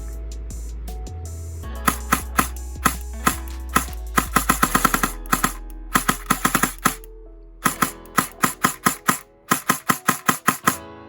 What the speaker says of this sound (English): Almost fires like an open bolt SMG.